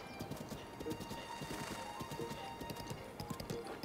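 Horse hooves clip-clopping at a steady quick gait while riding in The Legend of Zelda: Breath of the Wild, with a continuous even rhythm of close, moderately quiet footfalls over faint background ambience.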